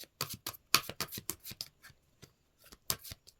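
Tarot cards being shuffled and drawn by hand, giving a series of quick crisp riffling bursts followed by a few softer separate flicks, close and fairly quiet with no talking.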